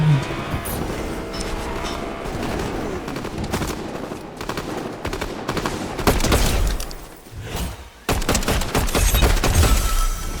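Continuous rapid gunfire and scattered shots in the video game Fortnite, with occasional heavier blasts, dense and busy throughout, fairly close.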